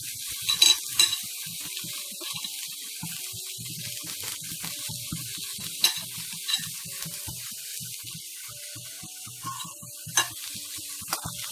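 Banana flower thoran with grated coconut is stirred in a pan. Repeated soft scraping strokes and light clinks of a spoon on the pan run over a quiet sizzle, with no talking.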